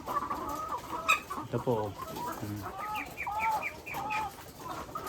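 RTL chickens on a small farm cluck repeatedly and close by, giving short rising and falling calls in quick bursts, while a person speaks briefly among them.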